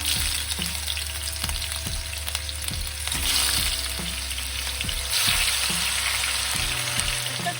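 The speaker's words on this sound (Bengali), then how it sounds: "প্রায় মাছ ভাজা কিছুটা হয়ে গেছে" Rohu fish pieces fry in mustard oil over a low flame, producing a constant close sizzle punctuated by regular light pops and spatters, with no voices.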